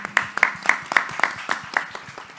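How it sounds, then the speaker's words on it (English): A few people clap at a panel discussion, sparse and fairly close, with roughly eight distinct claps in an uneven rhythm rather than a full crowd ovation. "round of applause to Henry from Estonia"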